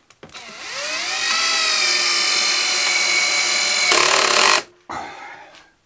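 A power drill-driver backs screws out to release clamps on a homemade jig for drilling cabinet hinge holes. It gives a loud, steady motor whine for about four seconds, then a brief second burst, close up with no talking.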